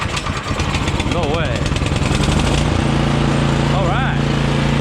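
Small engine being pulled to start, coughing into life and then running with a steady, loud, buzzing idle up close, while a person speaks briefly over it.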